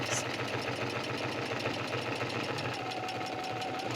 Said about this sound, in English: be sure to backstitch really well at the beginning and end